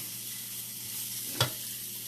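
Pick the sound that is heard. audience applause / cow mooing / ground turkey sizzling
ground turkey sizzling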